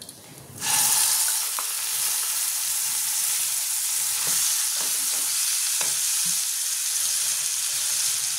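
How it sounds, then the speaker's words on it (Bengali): Shrimp paste dropped into a hot pan, bursting into a loud sizzle that settles into a steady, crackling fry for several seconds. "এবার আমি দিয়ে দেবো এই চিংড়ি পেস্টটা।"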